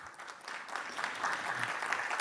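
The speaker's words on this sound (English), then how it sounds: "I don't know if y'all can hear when you're clapping" An audience at a chamber of commerce membership lunch claps steadily, a dense even patter of many hands at moderate distance, with no voices over it.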